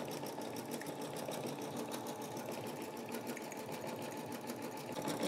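A single-needle embroidery machine stitches a hat with a fresh needle, giving a fast, steady, continuous mechanical whir and chatter that is loud and close, with no talking.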